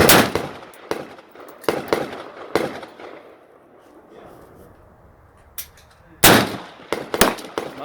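Sharp AR-15 rifle shots fired outdoors at a 200-yard target by a 10-year-old, several loud cracks spaced irregularly, some in quick pairs, with quiet stretches between and low talk nearby.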